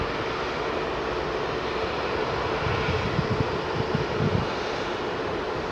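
A Boeing 747 jet taxiing at Heathrow Airport gives off a loud, steady engine roar and rumble that holds throughout, with a slight low thumping midway and no talk.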